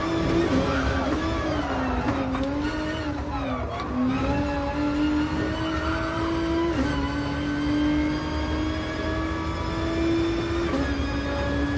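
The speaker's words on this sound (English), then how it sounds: "it makes that winding sound when you reverse, because that's straight cut" A race car reverses in GT Sport, its straight-cut gearbox giving a steady high whine over a continuous engine drone, rising slightly in pitch through the stretch.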